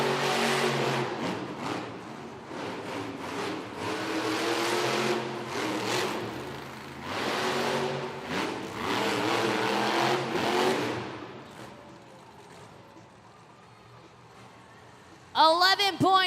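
Engine roar from Monster Mutt Dalmatian, a Monster Jam monster truck at a racing start in Oakland, surging and fading over a loud arena announcer, then dropping off before a sudden burst at the end.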